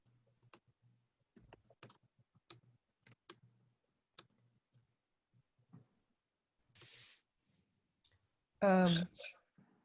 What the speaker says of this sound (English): I'm just gonna keep typing away.